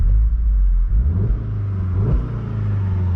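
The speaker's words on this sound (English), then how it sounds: "race does make the exhaust sound a little spicier." A 2019 Volkswagen Golf R's engine rumbles low and deep in race mode, its exhaust rising and falling as it revs, with a throaty burble and occasional faint crackles.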